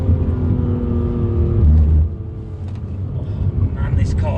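A BMW M2 CS engine revs hard on a track from inside the cabin, a loud droning tone that climbs then drops as the car brakes down into second gear, followed by a rougher lower rumble.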